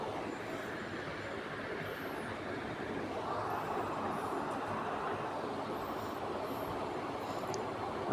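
A train runs steadily through a cantonment area, heard from its roof, with a loud continuous rumble and rattle of wheels and carriages throughout and faint higher squeals above the roar.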